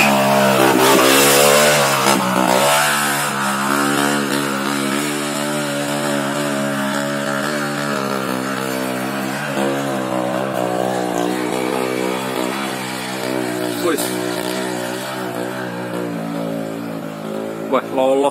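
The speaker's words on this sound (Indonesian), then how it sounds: "Motor Mega Pro Supermoto." A Mega Pro Supermoto motorcycle on a dirt trail revs its engine hard and continuously, a loud buzzing drone that rises and falls as it climbs, with people talking over it.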